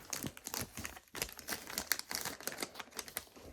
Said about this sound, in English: we're also going to be using the aluminum tape, and we're going to put one at the bottom here